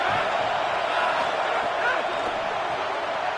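A football stadium crowd roars in a steady, loud, dense wash of cheering and noise that holds through the whole stretch, with a commentator's voice partly audible beneath it.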